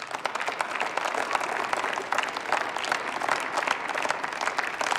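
Members of parliament applaud during a debate on Hartz IV sanctions, dense, sustained clapping from many hands, steady and moderately loud throughout.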